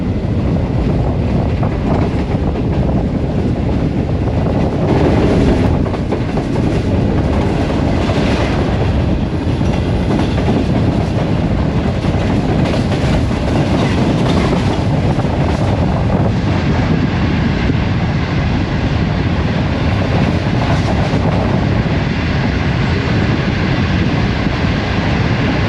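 A Green Line express train races toward Lahore, kicking up dust, its loud steady rumble and wheel clatter running continuously with heavy wind buffeting throughout.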